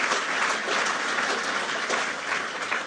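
Audience applause, a continuous wash of many hands clapping at moderate distance, even and unbroken with no talk over it.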